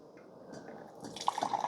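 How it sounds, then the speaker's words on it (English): Coffee pours from a stainless steel carafe into a cup, a quiet trickle that grows into a brighter, gurgling stream as it fills. "It pours really nice."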